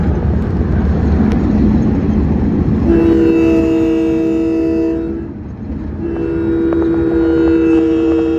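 An LIRR express train crosses over the Wantagh Parkway on its run to Babylon. Its horn sounds loud, sustained and tonal in two long blasts over a steady rumble and rattle of wheels on rails, with no talking.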